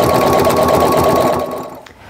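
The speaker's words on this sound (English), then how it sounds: "I'm gonna stitch on this last one here." A sewing machine quilting a small fabric mug rug runs at a fast, steady mechanical whir and chatter close up, then slows and stops near the end.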